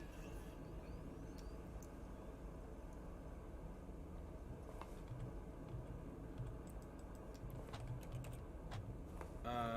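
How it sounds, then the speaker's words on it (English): Random typing on a computer keyboard during The Stanley Parable gives scattered, faint key clicks over a low steady background hum. "so I'm just typing in randomly"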